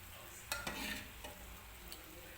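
Masala is stirred into a simmering mutton curry (rassa) in a pan: a few close scraping strokes over a steady low sizzle and bubble, with no talking.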